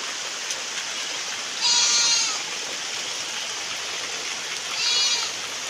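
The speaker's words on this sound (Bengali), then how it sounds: "বৃষ্টি শুরু হয়ে গেছে" Steady rain falls on a mud house with an even, broadband hiss, broken by two short bleating calls from a goat or sheep nearby.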